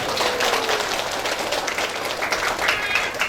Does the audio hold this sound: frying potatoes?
no